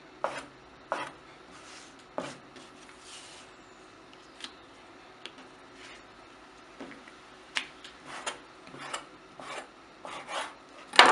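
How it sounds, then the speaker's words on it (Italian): A knife slices through thin-rolled fresh pasta dough into wide pappardelle on a board, giving a series of crisp, irregular cutting taps and scrapes close up, with no talk. "con l'aiuto di un coltello iniziamo a fare le nostre"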